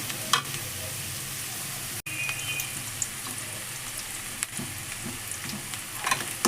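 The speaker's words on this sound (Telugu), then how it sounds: "ఇవి కొంచెం బ్రౌనిష్గా వచ్చే వరకు ఫ్రై చేసుకుంటాను నేను" Prawns fry in a pan until browning, giving a steady close sizzle with occasional stirring scrapes and light pops, and no voices over it.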